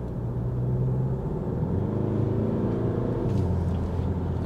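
BMW X1 23d diesel engine pulling under light throttle, a steady low rumble that rises slightly in pitch as the car gathers speed, heard from inside the cabin with no voices.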